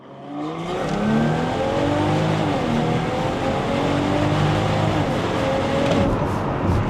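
A tuned Stage 2 BMW X5 xDrive45e plug-in hybrid, rated at 560 hp and 880 Nm, pulls hard from inside the cabin. Its engine drone climbs steadily through rising gears, loud and continuous, with no talk.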